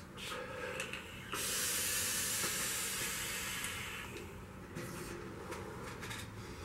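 Vapor drawn through a Troll RDA fitted with a 20 gauge coil and the airflow nearly wide open, a steady close breathy hiss that swells for a few seconds in the middle and then tails off, with no talk.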